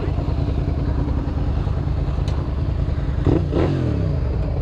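A Honda CBR sport motorcycle engine runs with a steady, fairly close drone and a brief rise in revs near the end, while people talk over it.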